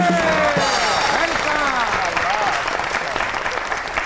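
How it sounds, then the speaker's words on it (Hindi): A studio audience at a comedy talk show claps loudly and steadily to welcome a guest, with cheering and voices rising over the applause. "आपकी बहुत सी तालियों में मुफ्ती अब्दुल कवी साहब।"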